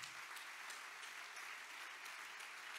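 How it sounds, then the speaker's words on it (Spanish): A church congregation applauds in praise of Jesus Christ during a sermon, a steady, even wash of many hands clapping together at low volume, filling the space with no voices over it. "Dele un buen aplauso de alabanza a Jesucristo"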